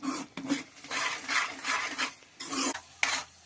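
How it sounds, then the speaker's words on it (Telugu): Onion and tomato masala paste stirred in a little oil in a pan, a steady scraping stir with a soft sizzle in repeated strokes, close and moderately loud, with no talking. "దీన్ని ఒక 5 మినిట్స్ కొంచెం ఆయిల్లోని మనం మగ్గించుకుంటాం"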